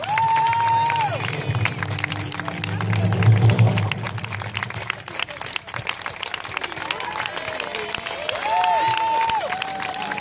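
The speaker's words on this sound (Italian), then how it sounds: "Un grosso applauso." Concert audience applause and cheering at the close of a cover band show with a gospel choir, a broad crowd roar of clapping and whoops that swells mid-clip, with bright tones and some voices over it.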